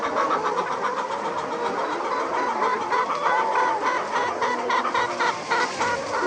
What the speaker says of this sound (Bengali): আজ আপনাদের দেখাতে চলেছি আমার একটি লেয়ার মুরগির খামার।